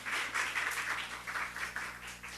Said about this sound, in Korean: 우리 하나님 박수 올려드려요